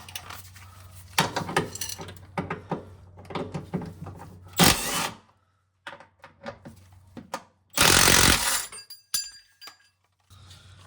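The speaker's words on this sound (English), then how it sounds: "Next thing we're going to do is take off these two bolts here." A power tool, likely an impact or ratchet gun, buzzes in two loud bursts while removing 12 mm sway bar support bolts under an Acura RSX Type S, between metallic clinks and ratcheting clicks close by.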